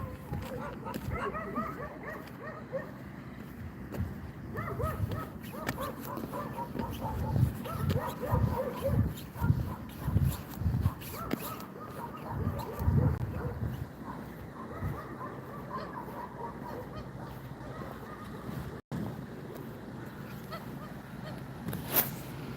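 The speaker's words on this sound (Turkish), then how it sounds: "Merhaba köpekler, niye böyle ters ters baktınız?" Several dogs bark, honk-like, and whine outdoors on a morning walk. Someone talks over them throughout, amid steady background noise.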